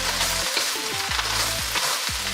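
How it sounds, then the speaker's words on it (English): Vegetables sizzle and fry for Chinese fried rice, a steady dense crackle with recurring tonal scrapes of a spatula stirring in the pan, close and continuous without talk. "So I'm gonna cook it until"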